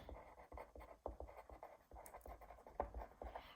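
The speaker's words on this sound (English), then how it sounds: "So I'm going to write a little note here" Pen scratches out a short handwritten note, quiet and close, in quick irregular strokes and taps with small pauses between letters.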